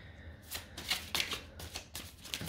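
Tarot cards are shuffled in several quick riffling bursts at close range, crisp and fairly soft, with short pauses between bursts and no speech.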